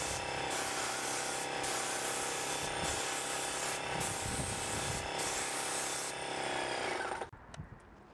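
Ready Seal wood stain sprayed onto wood in a steady, loud pressurized hiss that pulses in several bursts with brief pauses, then cuts off, leaving light handling noises.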